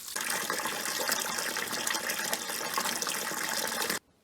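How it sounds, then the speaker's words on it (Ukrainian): Cold water gushing steadily from a tap over pike being soaked before cold smoking, a loud continuous splashing pour lasting about four seconds before cutting off abruptly. "Поки що заливаю холодною водою."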